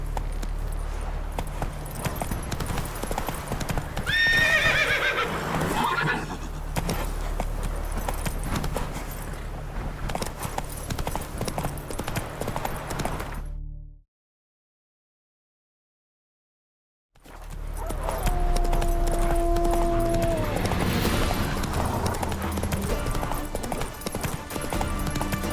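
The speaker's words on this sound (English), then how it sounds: "Come on, Roach" Hoofbeats from Roach, Geralt's horse in The Witcher 3: Wild Hunt, galloping in a steady clip-clop, broken by a few seconds of silence before the pounding resumes over game ambience.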